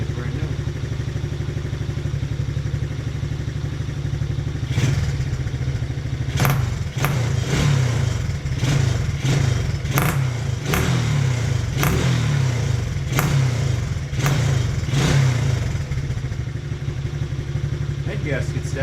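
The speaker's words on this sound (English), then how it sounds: "It's a backfire." A Taotao 125cc ATV engine idles and revs up close, its steady mid-pitched rumble broken by a string of sharp popping backfires. A voice talks over the engine.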